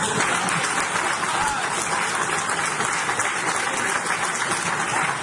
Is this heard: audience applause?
yes